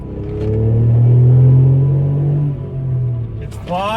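Turbocharged VW Up GTI accelerating on the road, a loud deep engine drone rising and holding, then easing off before a fresh pull with a brief rising whine near the end.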